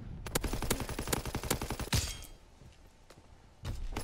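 Rapid bursts of automatic gunfire in the game Call of Duty WWII, a fast rhythmic string of close shots, a pause with fainter scattered pops, then another short burst at the end.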